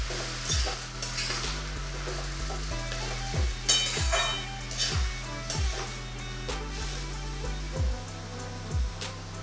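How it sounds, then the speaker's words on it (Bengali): Bottle gourd with added salt being stirred in a kadai with a spatula, giving close, evenly spaced scraping strokes against the metal pan with light clatter throughout. "সল্টটা দিয়ে আমি খুব ভালো করে আরেকবার নেড়ে নেব।"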